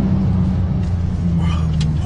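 A Porsche 911 Turbo S accelerates hard down a short straight on a tight, twisty test track, its steady loud engine drone and road rumble filling the cabin without pause.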